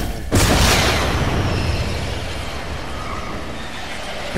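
A guided missile blasts in Fortnite with one sudden, loud boom that rolls into a long, dense rumble and fades slowly.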